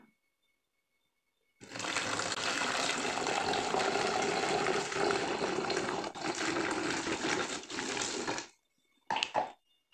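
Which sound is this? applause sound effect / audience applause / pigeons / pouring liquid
pouring liquid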